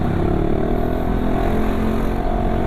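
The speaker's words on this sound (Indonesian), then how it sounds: "nih untuk suara digebernya gitu coy" The small engine of an older Yamaha XMAX scooter with a Prospeed exhaust revs steadily close by, a buzzing, rattling exhaust drone held at a constant pitch without speech.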